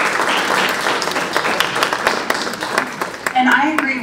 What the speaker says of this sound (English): Let's give a round of applause for William.